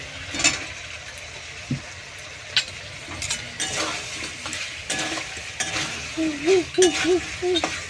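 Half-boiled potatoes being stirred into chicken kosha in a pan, with scraping spoon strokes, soft clinks and a low sizzle; close, moderately loud, no voices.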